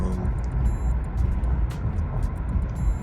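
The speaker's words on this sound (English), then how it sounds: "we're driving to meet my friend right now" Steady low rumble of road noise heard from inside a moving car, a Charger, continuous and close with no talking.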